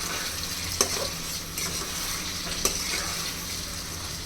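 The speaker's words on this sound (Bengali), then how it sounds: "মশলার সাথে মাংসটা খুব ভালোভাবে কষিয়ে নিব" Beef frying with spices in a pan for a Bengali beef and Malabar spinach dish gives off a steady soft sizzle, and two sharp spatula clinks against the pan punctuate the frying.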